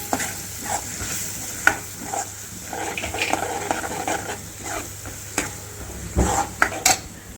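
Gravy for paneer curry cooking in a pan, a steady close sizzle with repeated spoon scrapes and stirring clinks against the metal, no talking.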